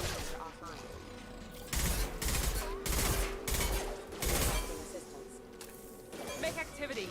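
Bursts of video game gunfire from Mass Effect 2 crackle in several loud volleys, with sci-fi battle noise and a voice talking over the action.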